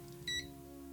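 Single short electronic beep from a glass-ceramic cooktop's circuit as a capacitor charges and discharges during repair testing, a bright tone lasting about a tenth of a second over a steady low electrical hum.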